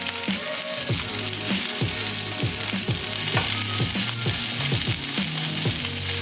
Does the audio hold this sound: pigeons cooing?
no